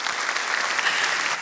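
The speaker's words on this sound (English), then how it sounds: "We can clap." A conference audience claps for a speaker at a robotics event, giving a brief, steady burst of applause from many hands.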